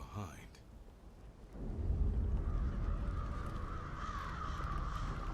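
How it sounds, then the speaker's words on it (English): Crows caw in a Diablo 4 game scene, a few harsh calls near the start before a swelling low rumble and ambient drone take over, with faint voice-like murmurs beneath. "Every time you hear the crows, I think of Odin now."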